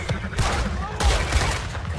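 A shootout in the video game Red Dead Redemption 2, with dense, rapid volleys of loud gunfire crackling continuously up close over a couple of seconds.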